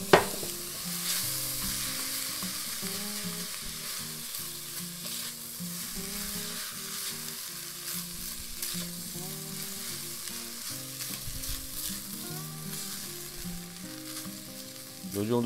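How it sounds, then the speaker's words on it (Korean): Raw rice is stir-fried in a little oil as the base for a beef and shiitake mushroom porridge, with a loud continuous sizzle and scraping stirs throughout, and no voices. "기름 살짝 넣을게요. 자, 이제 쌀 넣어주세요."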